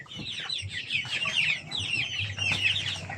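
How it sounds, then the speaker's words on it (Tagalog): Farm chickens cluck steadily nearby during feeding, a busy overlapping chatter of several birds with soft low thumps beneath and no talk. "Ayan pala yung mga manok natin mga gar."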